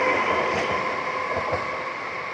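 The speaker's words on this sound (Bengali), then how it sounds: "যেহেতু এটা ডাউনের দিকে যাচ্ছে, নামখানার দিকে। এটা শিয়ালদা থেকে আসছে" A crowded Sealdah–Namkhana local train rolls past on a down line beside fields, a steady, loud rumble of wheels and carriages lasting the whole stretch with no one talking.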